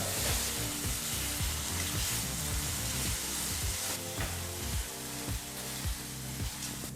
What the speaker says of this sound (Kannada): ಈಗ ಈ ಟೊಮೊಟೊ ಹಣ್ಣನ್ನು ನಾಲ್ಕರಿಂದ ಐದು ನಿಮಿಷ ಚೆನ್ನಾಗಿ ಫ್ರೈ ಮಾಡ್ಕೋಬೇಕಾಗತ್ತೆ ಈರುಳ್ಳಿ ಜೊತೆ ಬೆರೆಸ್ತಾ